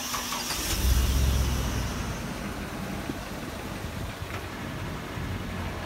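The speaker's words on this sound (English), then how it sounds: "I'll have Eric start up the truck engine for you and let you listen to how smooth it is." A 2006 GMC C7500 forestry truck engine cranks and starts, a low rumble swelling near the start then settling into a steady, smooth idle close by.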